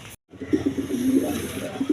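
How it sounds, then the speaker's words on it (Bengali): A pair of Bombay pigeons coo softly and close by in low, throaty, repeated murmurs, with a brief silent gap near the start and no talking. "প্রথমে এক পেয়ার বোম্বাই কবুতর দিয়ে আপনাদের মাঝে একটা ভিডিও শুরু করতেছি।"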